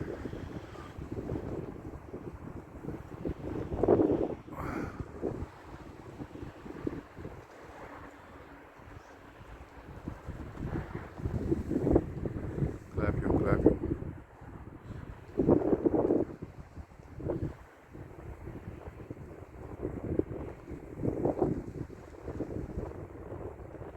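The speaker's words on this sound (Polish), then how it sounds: "we mnie centralnie wieje wiatr" Gusty, cold wind buffets the microphone in uneven rumbling surges, rising and falling over a low outdoor background at a beehive apiary, with no speech.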